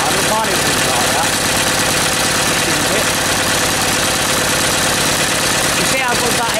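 An old mystery engine runs with spacers fitted, its inlet valve leaking slightly, producing a loud, steady chugging with rhythmic knocking pulses, close by and uneven at slow speed.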